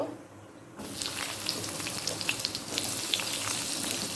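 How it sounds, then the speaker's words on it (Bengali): Pointed gourd frying with whole cumin in a pan over a medium-high flame: after a brief quiet start, a dense, steady sizzle sets in close by, with small crackles and no voice. "প্রথমে পটলটা আমি হালকা করে ভেজে নেব"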